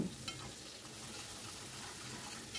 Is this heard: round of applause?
no